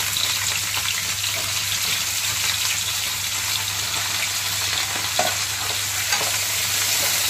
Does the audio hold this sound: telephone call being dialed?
no